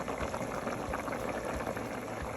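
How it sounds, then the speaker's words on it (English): Rice porridge with chicken bubbles steadily in a pot, a dense, continuous simmering and popping boil held at an even level throughout, with no voices. "the rice stuff's already started cooking down"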